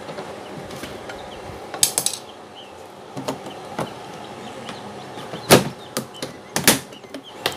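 Bolts being unscrewed from the back cover of a washing machine, with scattered ratcheting clicks and sharp metallic taps against a low background hiss, close and fairly quiet, with no talking.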